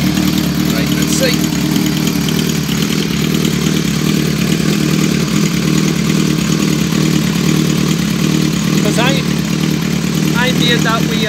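A 2005 Kawasaki ZRX 1200R motorcycle fitted with TMR-MJN carburettors idles steadily and loudly throughout, a continuous even engine drone with occasional faint clinks and background noise.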